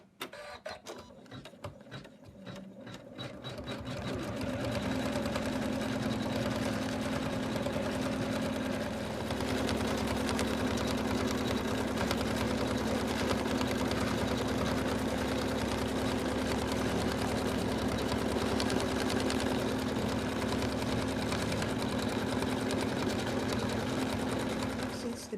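Embroidery machine stippling quilting stitches on an in-the-hoop snowman stocking, a rapid steady mechanical whir that starts with a few stuttering stitches, then runs continuously and fairly loud up close.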